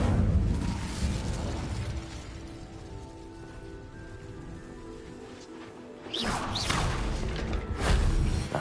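Incendio fire spell cast in Hogwarts Legacy, a loud roaring burst of flame with crackling texture, easing into a steady rumble before a second fiery whoosh flares up near the end.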